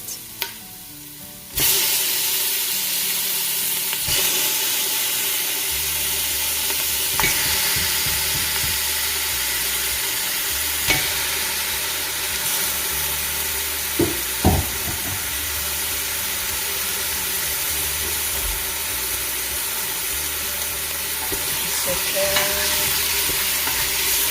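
Meat sautéing in a pan for Japanese curry gives a steady, close frying sizzle and hiss that runs almost the whole time, with occasional stirring scrapes and clinks.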